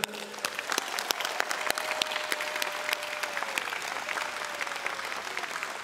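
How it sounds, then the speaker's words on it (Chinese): A crowd at an outdoor presidential inauguration celebration in Taiwan bursts into warm, sustained applause, dense clapping holding steady without a break. "也请大家一起给他们一个最热烈的掌声"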